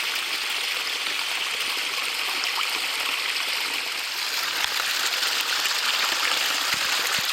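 Running stream water pours steadily into a bottle being filled for a Sawyer Mini filter, a continuous close, even rush and trickle with no voices.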